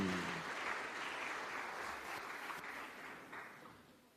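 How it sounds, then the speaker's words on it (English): An audience claps for Maie Sitete Siva Academy at the school's 10-year anniversary event, a dense, steady wash of applause that fades slightly toward the end, with a brief voice or tone at the very start. "Round of applause, ladies and gentlemen, for Maie Sitete Siva Academy"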